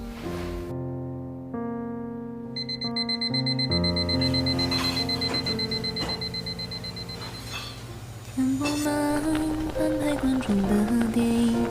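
An alarm clock rings at night in a home, its steady electronic melody repeating in loud, rhythmic bursts that shift pitch partway through, with no voices over it.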